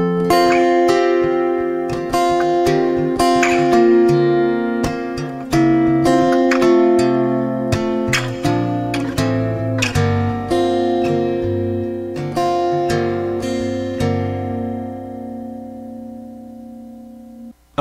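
Guitar with a capo playing an intro, a series of plucked and strummed chords ringing out close and clear, slowing and fading into a sustained final chord.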